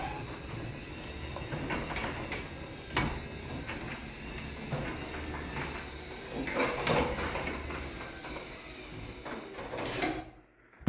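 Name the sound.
garage door running down its track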